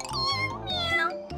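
Several cats meow in quick succession, close and fairly loud, with bright overlapping calls filling the short moment alone.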